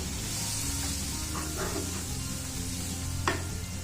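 Four medium chopped tomatoes drop into masala frying in ghee, giving a steady close sizzle with a few stirring scrapes and a brief sharp clink near the end.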